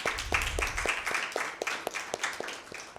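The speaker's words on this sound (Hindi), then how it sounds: "ईमान के लिए ज़ोरदार ताली।" Audience at a children's Father's Day church program claps for a child, soft steady group clapping with distinct individual claps, close and without talk.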